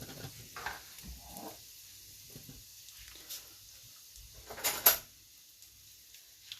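Faint, sparse sizzling and popping of cumin and dry spices in a hot pan for a lamb chop curry, with scattered soft crackles and a louder burst near the end, fairly quiet overall.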